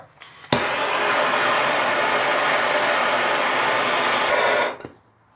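A heat gun blows on a part of a Lotus Excel gearbox during a reseal, a loud, steady close-up roar that switches on abruptly, holds for about four seconds and then winds down.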